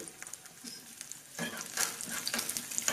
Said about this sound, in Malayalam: അതിലേക്ക് നമ്മൾ കട്ട് ചെയ്ത് വെച്ചിരിക്കുന്ന കാഷ്യൂനട്ട് ഇട്ട് ഒന്ന് വറുത്തെടുക്കുന്നു ചെറുതായിട്ട്